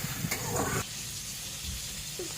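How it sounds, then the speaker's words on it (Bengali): Chopped onion and tomato fry in a pan with a soft, steady sizzle, a brief louder scrape of stirring near the start, then a quiet continuous hiss alone. "পেঁয়াজ কুচিটাও ভালোভাবে ভাজা ভাজা হয়েই এসছে ওটাকে আমি একটু নাড়াচাড়া করে দেব"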